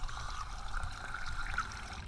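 Water being poured to top up a bottle during a long road bike ride, a short close trickle and splash of liquid under faint outdoor background noise, with no talk.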